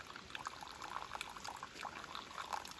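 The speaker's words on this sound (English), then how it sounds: "right on the trail, there's a little pipe spring." A small pipe spring beside a hiking trail trickles steadily, a faint, continuous splashing dribble of water heard alone at close range.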